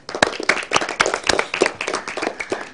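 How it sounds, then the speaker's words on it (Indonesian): Children in an Islamic primary school Quran class clap their hands together in a quick, uneven burst of sharp claps close by, with no talking over it. "Oke, tepuk tangan untuk kita."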